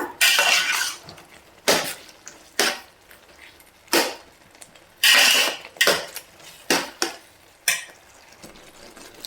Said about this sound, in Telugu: టమాటాని కదుపుకుంటూ వేయించుకోవాలండి